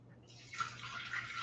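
Water poured from a container into a Thermomix mixing bowl holding rinsed canned lentils, a soft splashing pour that starts after a brief quiet moment and runs steadily, close and fairly faint.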